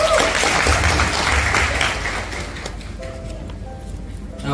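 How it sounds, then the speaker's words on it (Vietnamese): An audience at a respiratory health talk gives a leader a round of applause, loud and dense at first, then thinning as a low background rumble and faint tones carry on. "dành cho lãnh đạo Tiến mình một tràng pháo tay nha các anh chị"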